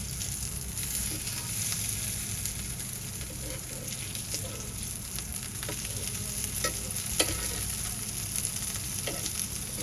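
Garlic-flavoured eggplant slices fry in a pan, giving a steady close sizzle and crackle throughout, with a few soft clinks as the slices are turned, and no one speaking.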